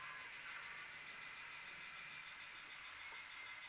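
N scale model trains running with distributed power, a steady faint hiss and whir of small motors and wheels on track, continuous and even with no talk.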